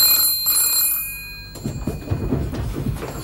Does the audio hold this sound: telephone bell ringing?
yes